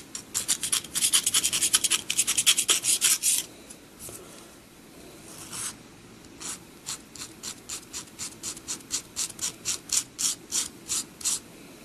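A scraper pulls finish off a 1960s Silvertone 605 acoustic guitar in rapid, rasping strokes, first a dense loud burst, then a pause, then a long run of evenly spaced, quieter scrapes, close by with no voices.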